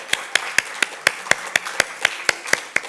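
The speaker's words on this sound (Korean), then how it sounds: "박수로 한번." Sparse, evenly spaced claps, about a dozen sharp hits in quick rhythm from a small group at a church youth group orientation, close and clear with little else around them.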